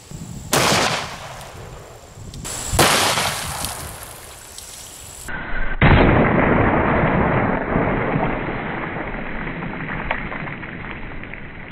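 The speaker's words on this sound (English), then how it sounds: "We're gonna start out with the 500 Magnum, and we're gonna be loaded up with a double tap, 275 grain Barnes XPB." A 500 S&W Magnum revolver firing into water jugs outdoors, several loud sharp reports with booming decay, one heavy blast followed by a long rumbling tail, no talk.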